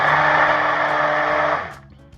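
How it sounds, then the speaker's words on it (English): A blender whirs loudly and steadily as it mixes coconut pie batter, running continuously for about a second and a half before spinning down and stopping, with no talking over it. "should put it in the blender"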